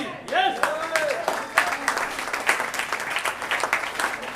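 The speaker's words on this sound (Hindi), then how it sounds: "तो जोरदार तालियों के बीच" Loud, sustained audience applause at an RCM business event welcoming a guest on stage, steady and full throughout, with a speaking voice heard over the start.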